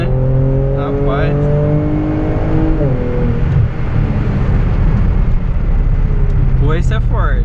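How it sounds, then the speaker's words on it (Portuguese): Kia Stinger GT with a twin-turbo V6 on gasoline accelerating hard, a loud rising engine roar heard from inside the car that shifts gear and keeps building, with someone talking briefly over it. "Vou dar uma pisadinha de novo aqui pra sentir o carro"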